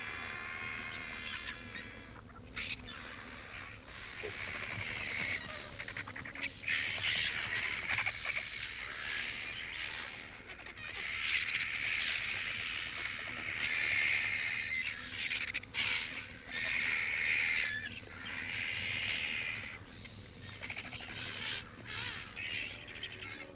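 Crows and other scavenging birds squawk and caw as they fight over carrion left by big cats in a Great Rift Valley landscape, a dense, continuous clamour of harsh calls at middle distance.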